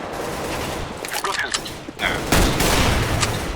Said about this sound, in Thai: ไม่รู้ศัตรูอ่ะยิงขู่ไว้ก่อน